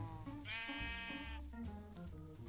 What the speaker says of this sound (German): Oh, und Schafe, viele Schafe, richtig Schafe stellen.